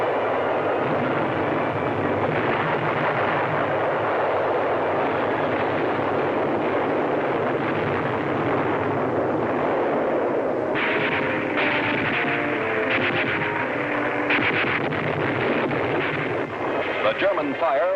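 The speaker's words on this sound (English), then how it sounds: "German fire was effective." Dense, continuous WWII battlefield din of German artillery fire around Saint-Lô, heavy rumbling bursts and roaring noise filling the whole stretch with no quiet gaps, apparently with a voice running over it.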